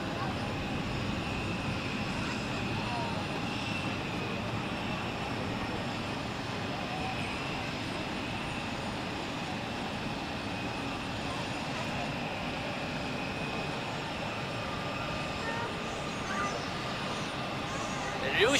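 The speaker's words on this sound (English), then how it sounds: "I hope you enjoyed this A380 takeoff." An Airbus A380 takes off at Zurich Airport, giving a steady, sustained engine roar that holds evenly at a moderate distance for the whole stretch, with no talk over it.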